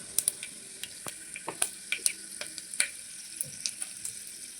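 Mustard seeds and cumin frying in hot oil, with sharp irregular pops and crackles spitting over a faint steady sizzle, close by and with no talking.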